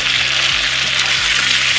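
Spätzle frying with bacon in a pan while being stirred: a steady, close sizzle with soft scraping strokes of the stirring utensil recurring throughout, no voices.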